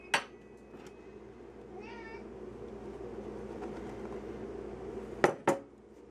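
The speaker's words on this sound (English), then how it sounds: "One of my cats has joined me" A cat meows a few times in a kitchen during baking, the wavering calls in the middle sitting over a low hum, with two sharp clinks of dishes or utensils near the end.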